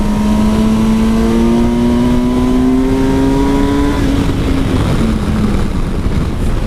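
A Kawasaki Versys 1000 SE GT touring motorcycle leaning through a corner, its engine note holding a steady loud drone that climbs slowly in pitch, then eases off, over heavy wind rush.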